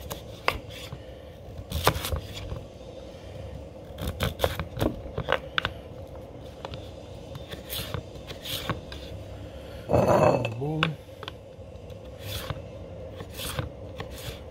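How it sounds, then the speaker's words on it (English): Potatoes are sliced into fries with a knife on a cutting board: a close series of crisp, irregular chops, and a brief louder scraping burst midway. "We're going to cut them into fries."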